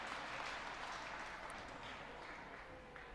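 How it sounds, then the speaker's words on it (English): A crowd at a paraclimbing final in Salt Lake City applauds a climber, a steady, fairly distant wash of clapping that holds evenly throughout. "The crowd letting him know that they appreciate the effort he put in there."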